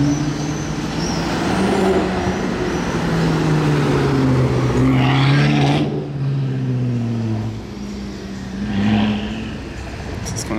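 A Porsche Turbo sports car drives past on a Monaco street, its engine note rising and falling loudly and steadily for several seconds, then fading and swelling again with a second pass, while people talk over it.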